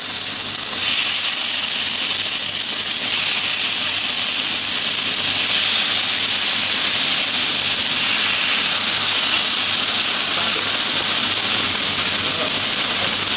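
Steady, loud sizzling and hissing from kangaroo meat in a smoking-hot pan, a dense high-pitched crackle that continues without a break throughout.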